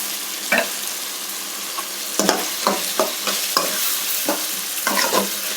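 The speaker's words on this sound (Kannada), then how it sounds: "ಇದು ಮೇಲೆ ಸ್ವಲ್ಪ ಎಣ್ಣೆ ಬಿಟ್ಕೊಳ್ಳೋವರೆಗೂ ಬಾಡಿಸ್ಬೇಕು." Avalakki (flattened rice) being sautéed in oil with tamarind in a pan, with a soft steady sizzle broken by a series of sharp spoon scrapes and stirring knocks.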